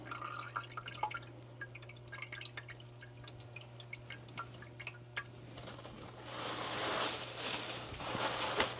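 Diesel fuel drains and drips from a Racor fuel filter during a filter change, with a steady patter of small drops over a low constant hum that swells into a louder trickling pour near the end.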